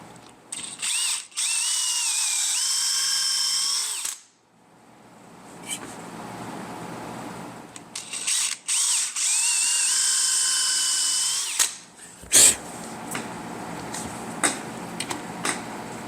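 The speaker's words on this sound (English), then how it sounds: "while I drill my holes" A power drill bores dowel holes in a clamped wooden shelf using a dowel jig, two sustained high whining bursts that rise in pitch, separated by pauses with clicks and handling knocks.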